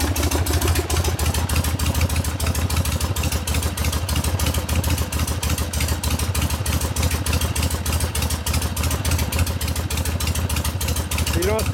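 A 1970 Harley-Davidson Sportster XLCH Ironhead, built as a rigid bobber chopper, idles steadily on its own. The engine makes a continuous close, loud, lumpy beat with mechanical clatter throughout.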